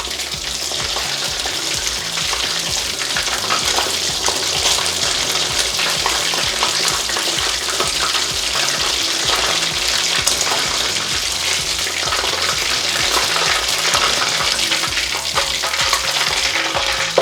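Shrimp fry in oil with a dense, continuous sizzle and crackle, loud and close, holding steady throughout with no voices.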